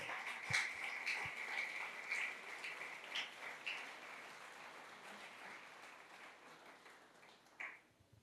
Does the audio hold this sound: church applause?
yes